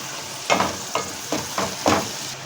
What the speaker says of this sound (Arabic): فبس هنشوحها نص تشويحه بس